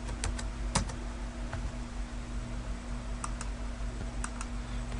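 A password is typed on a computer keyboard in a short run of crisp, close key taps. Clusters of clicks are spaced apart by pauses over a quiet room hum.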